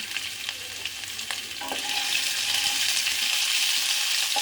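Garlic and ginger dropped into warm oil, sizzling and crackling close by, the frying growing louder and steadier after a few seconds, with no voices.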